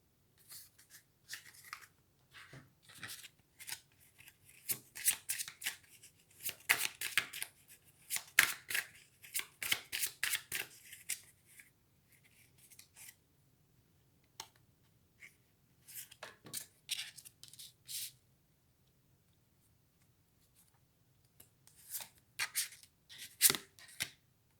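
Tarot cards shuffled for a romantic card reading, a run of quick crisp riffling bursts and flicks, close and fairly quiet, with pauses between handfuls and no talking.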